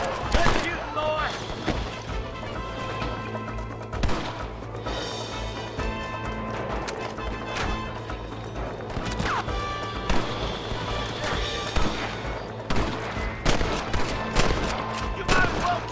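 Rapid gunfire in Red Dead Redemption crackles through a dense outdoor shootout, with repeated close shots and volleys, horse hooves clopping, and voices calling out over the fight.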